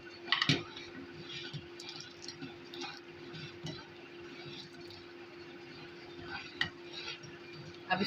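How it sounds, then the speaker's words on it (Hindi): A spoon stirs custard powder into milk in a pot, soft repeated scraping and light clinks of metal against the pan, close and quiet with a low steady hum behind. "अब हम इसको आहिस्ता आहिस्ता मिक्स करेंगे दूध के अंदर और इसको हिलाते हैं।"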